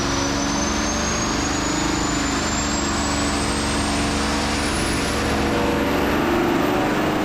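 Diesel truck engine on a dyno during a pull after an aftermarket valve spring swap, a loud sustained drone that climbs steadily in pitch as revs build, close and unbroken from start to finish.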